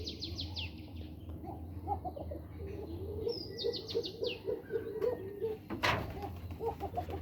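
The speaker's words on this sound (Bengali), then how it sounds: "খুব চমৎকার ডাক দিচ্ছে ওইটা দেখুন এটা কিন্তু একদম বিগ সাইজের কবুতর" Large pigeons kept in a loft, soft low cooing repeated close by, with brief chirps and twittering of other birds over a faint background hum.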